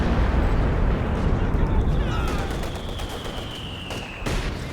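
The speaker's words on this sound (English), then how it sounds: "Here comes another Stuka barrage coming in as well." A Stuka bombing barrage in Company of Heroes 2 during a 4v4 match, with heavy rumbling explosions and crackling bursts that slowly fade, followed by a late sharp blast.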